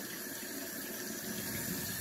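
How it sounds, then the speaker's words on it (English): Tap water runs steadily over a safety razor being rinsed at a sink, a continuous faint hiss and splash with no breaks. "let the water run between the head and the base and the blade"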